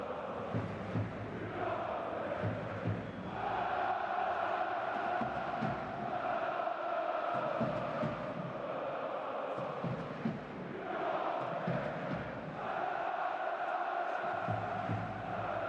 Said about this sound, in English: the crowd still keeping themselves warm. Maybe the singing that you can hear